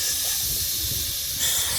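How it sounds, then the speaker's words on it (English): Streaky bacon sizzles in a pan over a campfire while wild camping on a Scottish beach, giving a steady, close, dense hiss with no voices. "that's proper streaky bacon sizzling"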